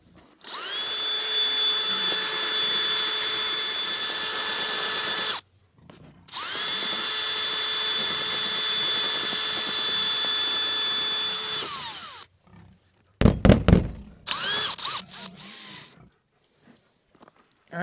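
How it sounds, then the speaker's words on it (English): A DeWalt 20-volt cordless drill with a flour auger bit whirs loudly in two long steady runs, each about five seconds, mixing pig feed in a bucket, followed by short scraping and clattering. "So this is just a normal cordless drill, DeWalt 20 volt with a flour auger bit."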